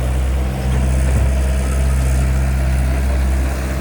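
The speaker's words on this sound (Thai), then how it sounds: "เครื่องยนต์ไม่มีโหลดอย่างนี้ก็เร็วดีนะ" The diesel engine of a Komatsu PC120-5 excavator idles steadily and close by without load, a deep continuous rumble with no revving or strain, running alone with no talk.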